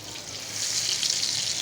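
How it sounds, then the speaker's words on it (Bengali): Snakehead (shol) fish frying in a hot frying pan gives a steady, bright sizzling hiss. The sound is close and continuous, swelling slightly toward the end, with no voices. "তো ফ্রাই প্যানটা আগে থেকে বসায় রাখছি মাছগুলো দিয়ে দিব"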